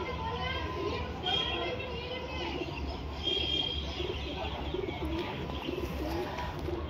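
Domestic pigeons coo in low, soft repeated calls amid a busy loft or yard, with other birds chirping and someone talking over them throughout.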